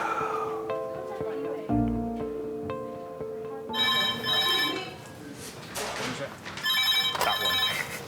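The red phone in a hospital A&E department rings in repeated electronic trills, breaking in over a background of people talking.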